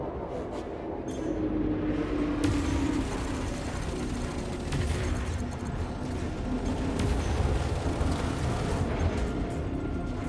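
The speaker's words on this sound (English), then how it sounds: "my cannon just blasted his ass" Ship cannon fire in the space combat game Elite Dangerous, heavy booming blasts with sharp onsets over a constant low rumble of engine drone, no speech.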